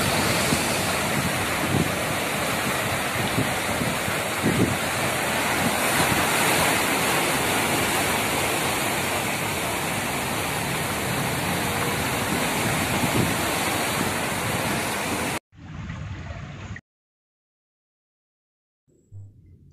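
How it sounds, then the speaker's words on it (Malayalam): Powerful sea waves surge onto the shore in a continuous loud roar with wind buffeting, then the sound cuts off abruptly before a brief return. "അതിശക്തിയോടെ തിരമാലകൾ കരയിലേക്ക് അടിച്ചു കയറുന്നതാണ് കടലാക്രമണമെന്ന് പറയുന്നത്."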